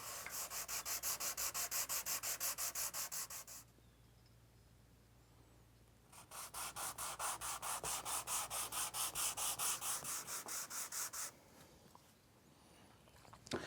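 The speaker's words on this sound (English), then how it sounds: "I'm going to continue flattening these by hand on my stone tile." Knife handle scales are rubbed flat by hand on a stone tile: two runs of quick, even back-and-forth scraping strokes with a short pause between them, close and alone.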